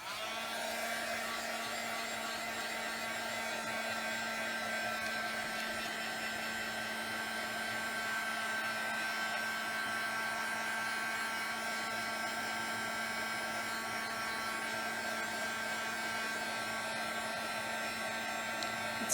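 A hair dryer blows on fresh decoupage on an altered book craft project, a steady, close, continuous whirring hum that holds an even pitch throughout with no talking.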